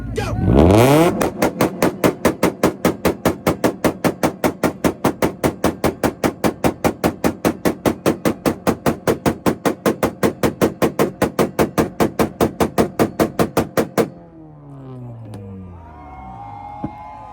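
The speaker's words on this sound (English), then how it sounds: "Integra, hit him again." A Honda Integra on a two-step rev limiter at an import rev battle in Woodburn, Oregon, firing a loud, rapid, steady machine-gun stutter of pops for about thirteen seconds before cutting off, then faint crowd noise and distant engines.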